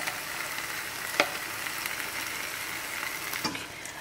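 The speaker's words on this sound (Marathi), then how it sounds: "आता आमी न्हू घालया ही पेस्ट." Almond paste sizzles and fries with tomatoes in a pan, a steady crackling hiss with a few sharp stirring clatters, close and alone without talk.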